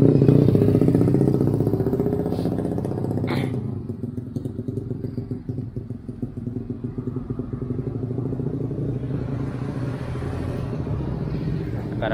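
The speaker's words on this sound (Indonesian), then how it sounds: "gara-gara sepeda motor berisik ya, saya coba ulang lagi" A loud motorcycle rumbles and clatters close by at the start, then its engine noise fades and lingers as a lower drone while it moves off, with no speech over it.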